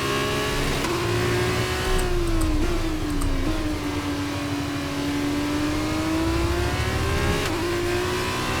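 An F2 race car engine in F1 23 at Brazil screams at high revs, held near flat out with slight pitch dips through corners and a brief gearshift blip, loud and continuous, no talking.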